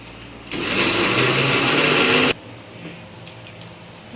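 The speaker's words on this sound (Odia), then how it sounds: "ଟିକେ ଗ୍ରାଇଣ୍ଡର କରିଦେଇକି ବଡ଼ି ପାଇଁ ପ୍ରସ୍ତୁତ ହେଉଛି ଆଉ" Mixer grinder grinding soaked rice into batter for badi, a loud steady whir starting sharply and running for about two seconds, then cutting off to a quiet room with a few small clinks.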